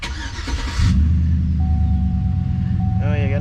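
Engine of a 2003-2006 Chevrolet Silverado 1500 pickup truck cranking and catching, then settling into a steady low rumbling idle, close by, with a faint whine and some noise over it.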